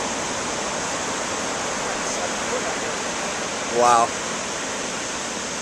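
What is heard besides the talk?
big waves crashing at a pier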